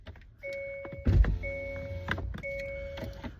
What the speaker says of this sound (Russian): Сейчас открою окно.